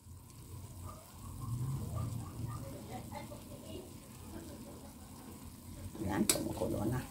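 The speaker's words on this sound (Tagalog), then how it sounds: "Yan, kumukulo na." A pot of beans bubbling and simmering steadily, low churning texture throughout, with a brief clatter near the end and faint voices in the background.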